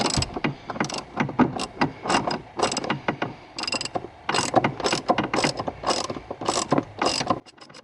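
A ratchet with a 13 mm deep socket loosens bolts on a Hummer H3 steering shaft, rapid clicking bursts of the pawl in quick repeated runs, close and clear with no talking.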